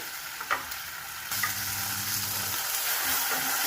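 Steady, close sizzle of frying in a pan for a Bengali posto (poppy-seed) dish, with a few brief scraping stirs and soft clicks over the continuous hiss.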